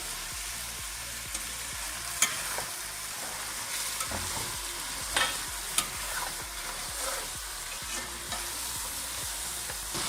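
Chicken fries in oil for a village-style bhindi gosht, a steady crackling sizzle broken by repeated scraping strokes of a spoon stirring the pan, close and alone without speech.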